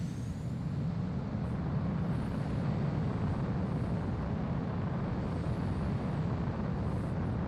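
A fighter jet in the video game Ace Combat 04 rolls for takeoff, a loud, steady engine roar with broadband rumble that holds constant throughout, with faint high whines above it.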